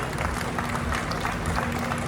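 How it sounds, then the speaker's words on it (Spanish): Applause and crowd noise at the closing of the patronal festival of San Juan Bautista in Coxcatlán, San Luis Potosí, greeting the municipal festival queen Camila; a steady, dense wash of clapping from a large outdoor gathering with a faint tone underneath. "Fuerte aplauso para Camila"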